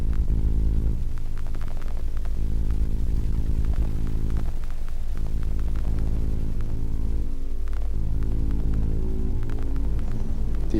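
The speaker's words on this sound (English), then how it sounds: "I will send the glitch to a reverb in order to get more space." Glitch sound in an fXfD tutorial passed through a reverb effect, a thick, loud droning hum with layered low tones and scattered crackling clicks, steady and washed out throughout.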